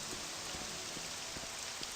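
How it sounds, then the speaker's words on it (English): Steady rain falls in The Elder Scrolls video game near the town of Balmora: a soft, even hiss of rainfall with faint scattered droplet taps and no voices. "we'll just power through the rain"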